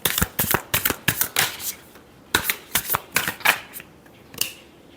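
A deck of tarot cards is shuffled by hand in rapid riffling bursts, two quick clusters of crisp flicks separated by a short pause, close and clear with no voices.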